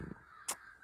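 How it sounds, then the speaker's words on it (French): Crows cawing outdoors during a crow hunt, one short harsh caw standing out clearly near the middle, with a fainter, lower call at the start. "Il y a deux corbeaux qui restent tout en arrière de moi."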